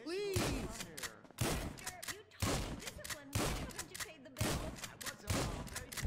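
Gunfire inside Michael's house in GTA 5: several loud bursts of shots and thuds in a game setting, spread over a few seconds, with game character voices talking between and over them.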